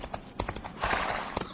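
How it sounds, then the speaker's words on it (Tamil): A horse's hooves clip-clop in a quick, uneven run of sharp knocks over about a second and a half, moderately close, with no talk over them. "குதிரை டக்கடி டக்கடி டக்கடி டக்கடி"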